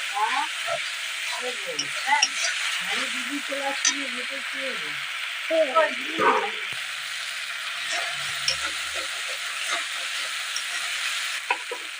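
Spice paste for palak paneer fries and is stirred in a pan, making a loud, continuous sizzle with stirring scrapes and a muffled voice in the background.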